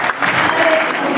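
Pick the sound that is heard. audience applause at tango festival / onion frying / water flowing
audience applause at tango festival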